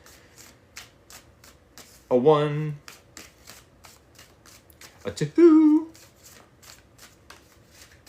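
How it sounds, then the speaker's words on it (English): Tarot cards being shuffled in two quick riffling bursts, close and crisp, with a woman counting aloud between them. "Y'all, we need 3 more shuffles."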